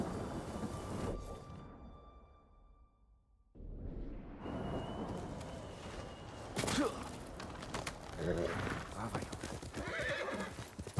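Horse hooves clip-clop at a steady trot in Ghost of Tsushima, with a horse's neigh and whinny, against outdoor ambience that drops away briefly before the riding resumes.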